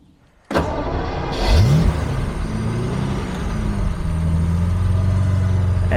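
A modified Jaguar E-Type V12 with four exhausts fires up after a starter whine, catching into a loud, close idle that swells with a brief rev and settles into a steady, deep running rumble.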